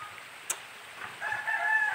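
Among a flock of chickens, a rooster crows loud and close in the latter half, after a few soft clucks and rustles.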